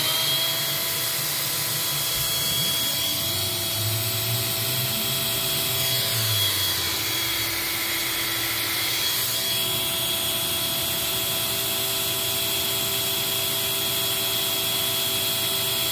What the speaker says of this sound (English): So we'll run the airflow test and then try to run a suction test